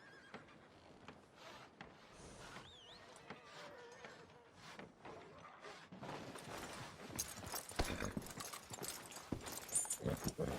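Horse hooves clop along at a walking pace in the Red Dead Redemption 2 video game, a faint steady rhythm that grows busier and louder toward the end, with a brief whinny early on.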